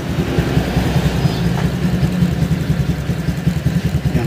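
A Honda Click 150 scooter engine runs after an overhaul with all sensors reconnected, idling with a close, steady, slightly uneven pulsing throb and light mechanical clatter.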